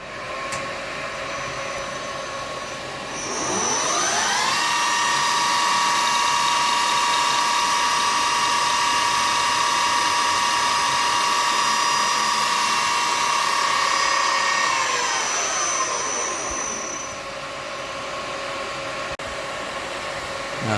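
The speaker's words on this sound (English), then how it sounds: "So I'll get this pipped with the center drill first" A center drill spots a pilot hole in metal: a steady machine whine spins up, holds a bright, even pitch for about twelve seconds while cutting, then winds back down to a quieter hum.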